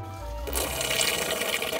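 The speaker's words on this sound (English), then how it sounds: "fingers crossed, we should hear the water going into the bucket" Water drains from a pipe into a bucket during removal of an old hot water tank, a rushing, splashing stream starting abruptly after a brief moment and continuing loudly up close.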